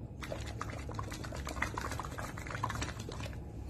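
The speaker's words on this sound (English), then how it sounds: "So you have to blow out completely by making bubbles." Air blown through a straw into a glass of water makes continuous bubbling and gurgling that stays steady and fairly close for several seconds, with no voices.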